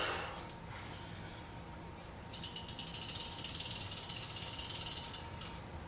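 A Shimano Saltiga fishing reel is cranked against heavy drag while 50-pound braid is tested: a rapid, close ratcheting click begins partway in and runs steadily to the end, over a low background hum.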